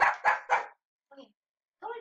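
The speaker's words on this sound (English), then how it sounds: "he was barking too much" A pet dog barks three times in quick succession, loud and close, followed by short pauses with brief talk from a person in between.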